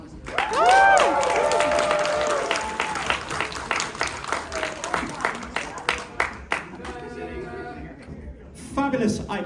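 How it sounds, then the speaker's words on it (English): A convention audience at a Q&A panel applauds and cheers for a guest, dense clapping that thins into scattered claps while a host's voice carries over it. "How about a huge round of applause as well for Brian Dochois?"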